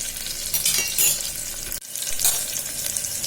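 Onions sauté in a pan over a medium-low flame until golden brown, a close, steady sizzle broken by scraping stirs and a brief dip midway, with no talking.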